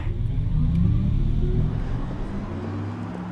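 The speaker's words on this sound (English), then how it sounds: "This is what the Audi R8 e-tron sounds like on the road." An Audi R8 e-tron electric sports car produces its synthetic driving sound on a road: a steady, loud low hum and rumble that holds throughout and fades slightly toward the end, with no talking.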